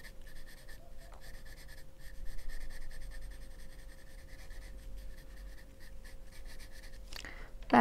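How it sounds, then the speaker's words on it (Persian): Pencil on paper, a soft 8B graphite darkening shaded areas while drawing an eye and iris, gives a steady, quiet scratchy rasp. It continues evenly and close for the whole stretch, with a slightly louder rub near the end and no talking. "میام با یه مداد درجه بالاتر مثل 8B، قسمتی که باید تیره تر شه رو تیره میکنم"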